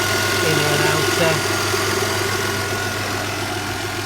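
A Vauxhall Vectra GSi engine idles with a steady, low rumble throughout, close and even, with a faint hum above it and no other distinct sounds.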